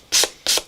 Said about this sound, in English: A sanding sponge makes really fast work of this.